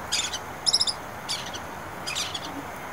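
Bursts of sharp, high chittering calls in quick clusters, repeated several times with short pauses, fairly clear against quiet background.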